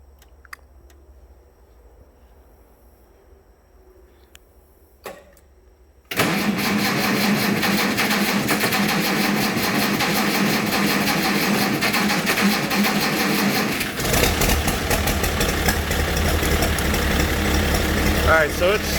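Diesel D-17 tractor engine, quiet at first with faint clicks, then catching abruptly into a loud, steady rumbling idle that continues to the end, with a slight change in tone partway through.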